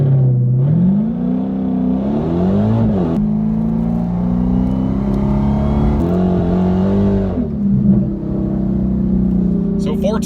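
A Dodge Hellcat on warmed Nitto tires in 700-horsepower street mode pulls hard through second gear, its loud engine roar climbing steadily in pitch for several seconds, easing briefly, then surging again before backing off near the end.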